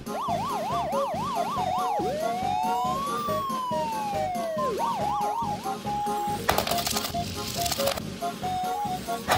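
Unmarked police car siren wailing in a steady, rising-and-falling toy-like pattern with a long sweeping tone in the middle, loud and close, followed by brief clattering.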